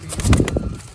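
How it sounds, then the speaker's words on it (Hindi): Sialkoti Sheikha black-faced female pigeons close by: a brief burst of soft fluttering and low cooing-like murmurs, with a short flap of wings. "शेखा वाले काले मुंह वाले कबूतर"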